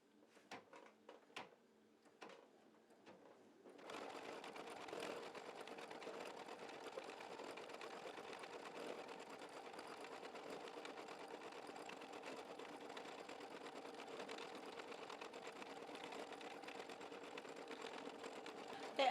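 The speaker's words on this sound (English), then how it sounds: "let's go ahead and lower the presser foot and let's stitch" An embroidery sewing machine stitches wing needle work, starting after a few light handling clicks and then running as a steady, continuous mechanical whir at close range with no talk.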